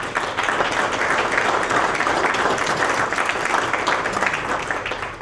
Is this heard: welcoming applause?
yes